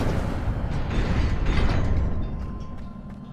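A rumbling, crackling burst of fire from an Incendio spell in Hogwarts Legacy, dense and loud for a few seconds before tapering off.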